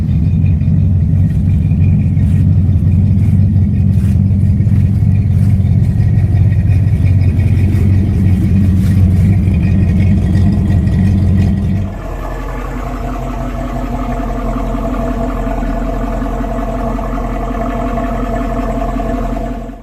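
An AMC 327 V8 runs loudly up close, first with a deep, lumpy rumble, then after a cam change with a smoother, steadier idle and a different, higher-pitched tone.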